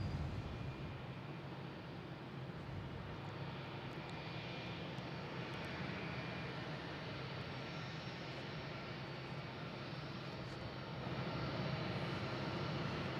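A JetBlue airliner rumbles steadily at Boston Logan International Airport, a broad and fairly distant engine roar that holds for the whole stretch and swells a little near the end, with no voices.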